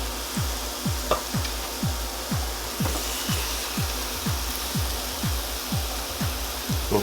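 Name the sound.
butterfly chicken legs sizzling on Chefman indoor grill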